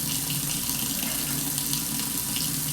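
Hot water runs steadily from a kitchen sink tap to wash a cast iron skillet, a loud, constant hiss and splash that never lets up, with no talking over it.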